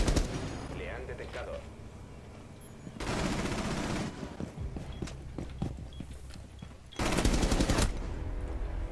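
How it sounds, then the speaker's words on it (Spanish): Gunfire in the Rainbow Six PC game, with two loud bursts of rapid shots, each about a second long, broken up by footsteps and quieter game sounds. "Pues la verdad no esperaba ese disparo"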